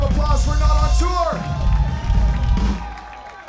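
A concert crowd at a Paris punk rock festival cheers and yells loudly between band sets, whoops and shouts rising and falling with a voice in the mix.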